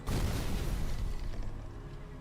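An explosion in the video game Sherlock Holmes: The Devil's Daughter bursts in with a loud, deep boom at the very start, then rumbles and fades over about two seconds, with no talk.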